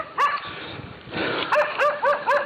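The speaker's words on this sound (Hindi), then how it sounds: "कुत्ते भौंक रहे, हमें ही दिखाएं" Several dogs bark outdoors, with a couple of quick barks and then a rapid run of four or five sharp, fairly close barks, some yipping and high-pitched.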